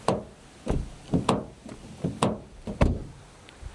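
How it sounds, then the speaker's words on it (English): Car doors on a 2025 Jaecoo 5 SUV are opened and handled, giving a string of light, hollow, tinny knocks and clunks at an uneven pace, fairly quiet and close. "very, very tinny door openings, not very Range Rover"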